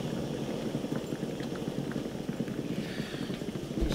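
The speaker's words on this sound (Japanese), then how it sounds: "缶酒沸騰してきた。" Canned sake heating in a pot on the stove, rolling toward a boil: a steady bubbling simmer with a dense low rumble and soft popping throughout, close and moderately quiet, no voices.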